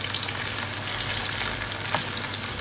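Fresh plantain frying in hot oil in a pan, a steady bright sizzle and crackle running throughout at moderate level, with no talking.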